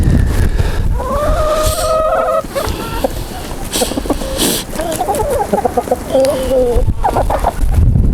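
Several hens cluck and cackle close by in overlapping bursts, with a rooster call mixed in over a rumbling background and some brief talking.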